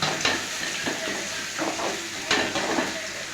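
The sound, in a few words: onions frying in oil for kuzhambu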